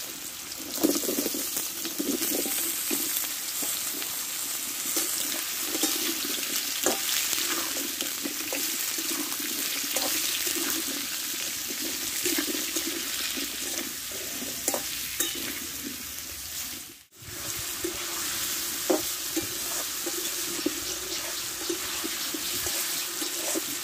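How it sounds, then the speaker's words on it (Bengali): Pumpkin pieces frying in hot mustard oil in a wok, with a steady dense sizzle and stirring scrapes throughout, a brief drop to near silence partway before the frying resumes. "আমি কুমড়োটা আগে কষে নেব ভালো করে।"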